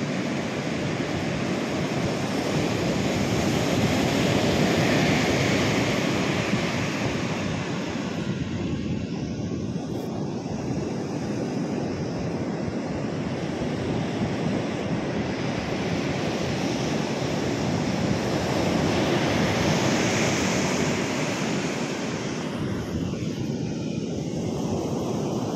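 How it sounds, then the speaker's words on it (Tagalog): Rough sea surf pounds the shore at Bucana in the aftermath of Typhoon Uwan, a continuous loud roar of breaking waves and wind with swelling surges. "Ayan ako, inabot pa ng alon."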